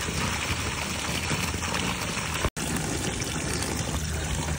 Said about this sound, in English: While it's draining, open this to make it go faster.